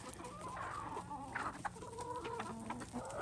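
A rooster and several chickens cluck and murmur close by in short, overlapping bursts, a busy coop chatter with no talking.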